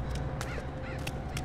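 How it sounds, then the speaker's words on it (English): Crows cawing in the stealth video game Mark of the Ninja, several short harsh calls spaced through a steady low ambient background. "Oh, the birds made noises too."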